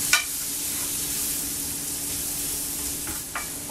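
Shallots and leftover bacon sauté over medium heat in a pan, giving a steady broadband sizzle with a few brief stirring scrapes near the start and end, no voices.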